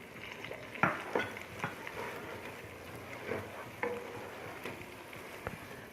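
Julienned green chilli and ginger frying with minced keema in oil in a pan, a soft sizzle under irregular stirring scrapes and knocks of a spoon against the pan.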